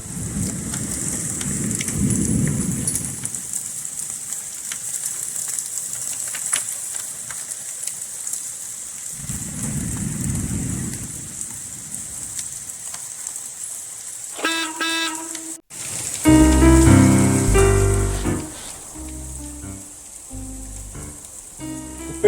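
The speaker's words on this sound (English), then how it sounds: "it's kind of nice sitting out here on the front porch while it's raining" Steady rain falls, heard from a front porch, a continuous close hiss with two low rumbling swells, before a loud, tonal burst of other noise cuts in near the end.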